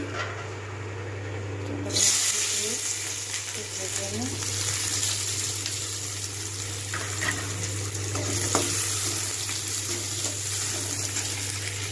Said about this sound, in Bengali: পেঁয়াজ কুচিটা ভাজতে থাকি